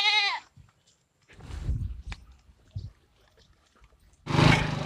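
Goats bleat in a rural Philippine setting, one loud wavering cry at the start and another strong bleat at the end, with quieter rustling and shuffling between them and no one speaking.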